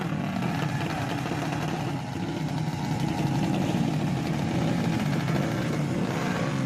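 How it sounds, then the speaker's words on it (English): Loud, steady engine drone from a modified vehicle, a constant idling rumble that holds close and unbroken throughout with no voices. "This is sound produced by very unpleasant vehicles, especially vehicles that was modified."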